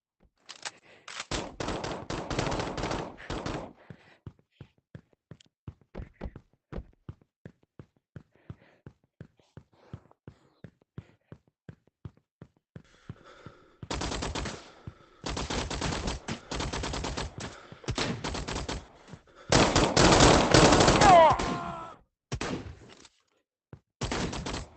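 Guns fire in a Roblox game during weapon testing: repeated bursts of rapid automatic shots with brief pauses, loud and close, with no talking.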